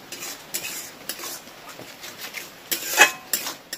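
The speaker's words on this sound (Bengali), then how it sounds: "এবার এটাকে ভালো করে কষিয়ে নেব" A spatula scrapes and clatters against a pan as a spice paste with curry leaves is stirred and fried, irregular clinks and scrapes with a faint sizzle underneath, one sharper knock near the end.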